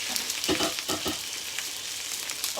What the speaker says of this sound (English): we're bringing that to another boil, and it's already boiling